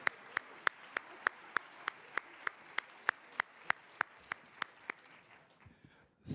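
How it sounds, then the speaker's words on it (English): One person claps at a health equity summit, sharp evenly spaced claps in a steady rhythm over quiet room noise, about twenty strikes before they stop. "big applause"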